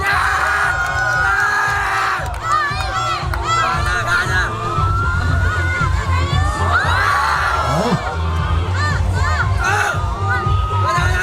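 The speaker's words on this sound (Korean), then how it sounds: "자, 한정아 박수 한번 보내주세요" A crowd cheers, shouts and yells at a ski instructors' federation short-turn final race, loud and continuous, with children's high voices and an announcer speaking over the noise.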